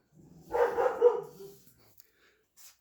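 A dog gives a single short, muffled bark-like yelp, fairly close, followed by near silence.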